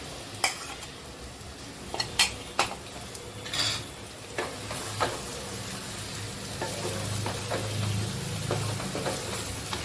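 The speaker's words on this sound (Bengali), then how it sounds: "মশলা ভাজা হয়ে গেছে আমি এবারে মাংস দিয়ে দেব" Plain meat with spices fries in a pot, making a continuous close sizzle broken by sharp stirring clinks and scrapes of the utensil against the pot.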